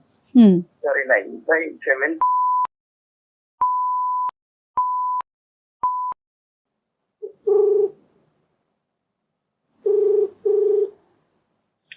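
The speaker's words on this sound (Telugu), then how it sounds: "నేను కాల్ చేస్తాను." A phone call goes through: a few spoken words, then a series of evenly spaced electronic ringback beeps, followed by brief voices on the line.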